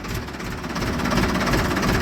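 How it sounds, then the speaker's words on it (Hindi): A Ford tractor engine runs on a farm, a steady, close, continuous rumble and clatter with no pause, and no voices over it. "दोस्तों स्टार्ट करके ट्रैक्टर मोड़ लिया है मैंने यहाँ से"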